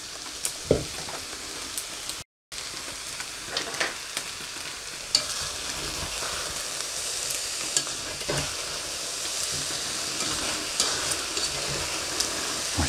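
Tofu pieces fry in a pan of white cabbage, giving a dense, steady sizzle with occasional stirring scrapes and small pops, close and continuous, without any talking.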